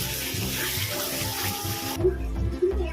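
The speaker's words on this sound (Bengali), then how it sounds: "আমি এর মধ্যে দেবো উষ্ণ গরম জল" Warm water poured into a pot of katla fish kalia after the spices and yogurt are fried. A steady rushing pour runs for about two seconds, then gives way to a low bubbling sizzle with a few louder splashes.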